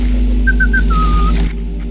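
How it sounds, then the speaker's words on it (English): A short whistled tune of a few wavering notes in the video game Evade, fairly clear over a low steady hum of background noise. "Here, I'll whistle."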